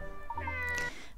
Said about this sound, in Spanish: ¡Miau! Vaya, un gatito.